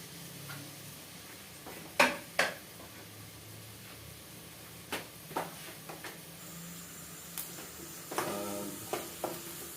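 Onion fries in a pan for a tilapia dish with a soft, steady sizzle, while a spatula gives scattered scrapes and several sharp taps on the pan, close but fairly quiet.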